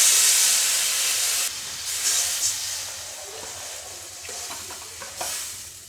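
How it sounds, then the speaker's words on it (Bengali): Water poured into a pan of well-fried potatoes and spices for a katla fish and helencha greens curry, opening with a loud hiss and sizzle that fades into softer bubbling and stirring, no talking. "এখন আমি জল দিয়ে দেবো"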